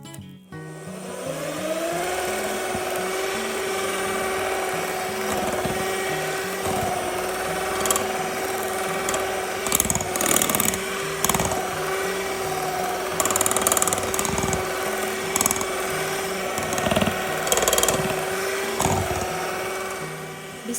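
Gluten-free bread dough being beaten by an electric mixer, a steady motorized hum with rubbing and scraping noises throughout, running continuously and fairly loud.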